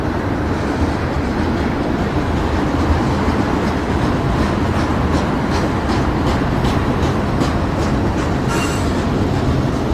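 A freight train with a mid-train DPU locomotive rolls past close by, a dense steady rumble of wagons with rhythmic clickety-clack wheel beats and faint squeal.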